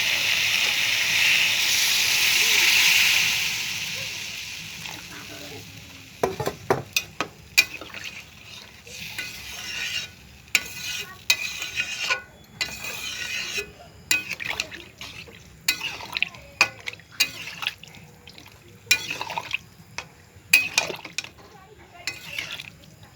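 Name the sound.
water poured into sizzling pan of potatoes and soybean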